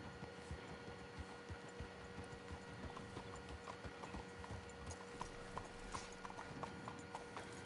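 Horse hooves clip-clopping on the streets of Saint Denis in Red Dead Redemption 2, a steady run of fairly faint, evenly spaced hoof strikes with a little tack rattle and no talk over it.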